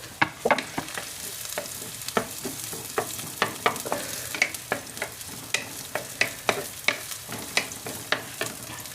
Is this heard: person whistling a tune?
no